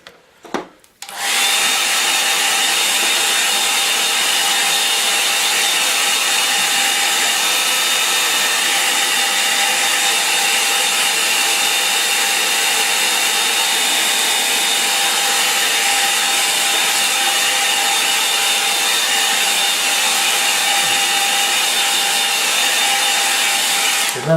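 A hair dryer runs steadily on a watercolour painting, a continuous loud whooshing hum with a faint whine, starting after a brief click and holding for the full length with no talk.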